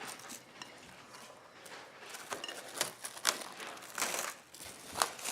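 Plastic cling wrap crinkles and crackles as it is peeled off a raw meatloaf mixed with oats, with irregular close-up rustling bursts that build louder toward the end.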